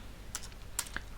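A few quick, faint keystrokes tap on a computer keyboard as R code is typed, with soft isolated clicks against a quiet background.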